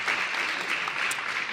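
Conference audience breaks into a short burst of steady, dense applause, clapping continuous and fairly loud throughout with no voices on top.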